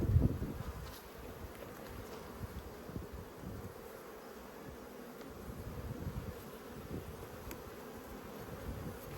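Honeybees busy in an open hive during an inspection, a dense, close, steady buzzing hum with a few louder passes near the start.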